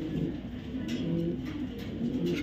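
Pairs of top-quality racing pigeons coo softly and steadily at close range, their low, rounded calls rolling and overlapping throughout with no talking.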